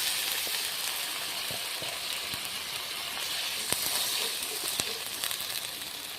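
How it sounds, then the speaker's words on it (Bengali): Water poured into frying spice masala for an egg curry makes a steady, moderate sizzle and hiss, with occasional faint clicks of a utensil through the bubbling and no voices. "এবার দিয়ে দেবো পরিমাণ মতো জল"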